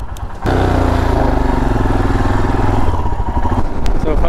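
A Royal Enfield Himalayan motorcycle engine fires up after a short pause, then settles into a loud, steady, thumping idle close by that runs to the end with slight revving.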